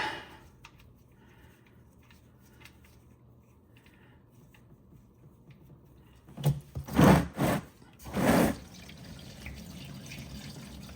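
Transmission fluid from a Honda Pilot drains into a drain pan after a quiet stretch, arriving as a few loud, close splashing gushes that then settle back to a faint background.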